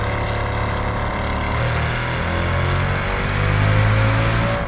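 A Mercedes-Benz CL63 AMG engine roars steadily under hard driving, a continuous loud mid-range drone that swells and climbs in pitch toward the end as the car accelerates.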